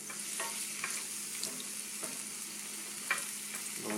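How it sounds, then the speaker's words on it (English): Onions sauté over high heat in a pan with continuous stirring, a soft even sizzle with periodic spatula scrapes and taps, close and fairly quiet, no speech. "we want to saute them until they start getting brown"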